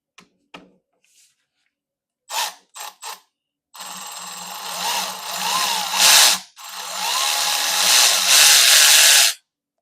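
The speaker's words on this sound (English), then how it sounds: "the Milwaukee, once it gets up into the higher RPM, it really starts ripping, and the it's noticeably louder" Milwaukee 1/4 inch electric ratchet: a few short bursts, then sustained loud, close whirring at high RPM with a rough ripping buzz, a brief pause, then another long run before stopping abruptly.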